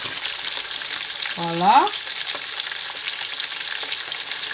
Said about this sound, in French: On est en train simplement de les frire. Petite friture.